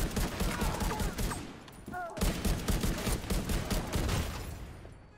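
Gunfire from a weapon in the video game The Division 2: rapid bursts of shots in quick succession, loud and punchy, with a brief pause midway before firing resumes, and a voice speaking lightly over it.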